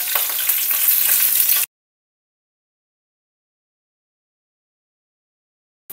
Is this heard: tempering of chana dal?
yes